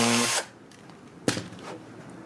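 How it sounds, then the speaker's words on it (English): A power drill bores out the holes of a small plastic servo control horn on a twin-motor FPV plank model, a brief loud whir that stops abruptly, followed by a short scrape and fading tool noise. "You may need to drill out the holes on the control horn"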